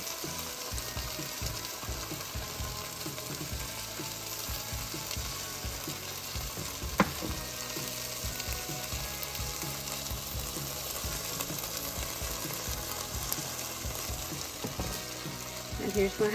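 A small pack of Smokies simmers in Sweet Baby Ray's barbecue sauce and grape jelly, a continuous close sizzle and crackle with one brief clack partway through and no speech.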